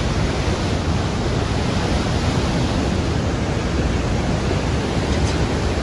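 A rushing stream beside a mountain trail on the way to a high viewpoint, heard as a loud, dense, unbroken roar of flowing water with no voices.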